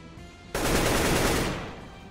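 A single loud, close burst of rapid gunfire starts abruptly in a video game as a base is shot at, lasting about a second before trailing off.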